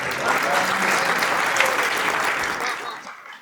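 Audience applause at a Hindi poetry recital, a dense, steady wash of clapping from a sizeable crowd that holds for about three seconds before tapering off.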